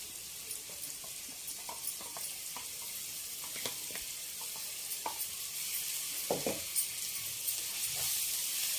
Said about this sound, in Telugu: ఈ పచ్చివాసన పోయిందాక వేయించుకోవాలి పచ్చిమిరపకాయలు